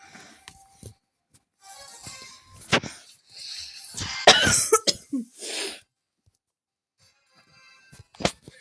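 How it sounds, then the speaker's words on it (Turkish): Several bursts of harsh, close coughing and throat clearing from a sick person, separated by quiet pauses, with a short wheezy breath among them. "Arada öksürüyorum."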